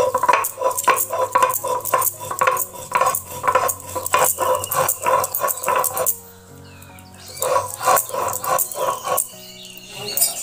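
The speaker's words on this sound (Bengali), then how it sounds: "এরপর আমি পোস্ত আর কাজু বাদামকে একসঙ্গে শিলে বেটে নেব।" Poppy seeds and cashews ground together on a flat grinding stone make rhythmic rasping, knocking strokes at a brisk, even pace, close by, with a short lull midway before the grinding resumes.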